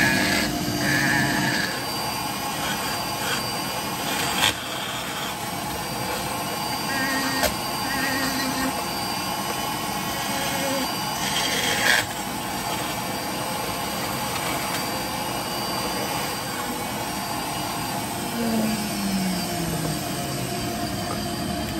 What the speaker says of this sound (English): we are going to start rounding off our fish with these burrs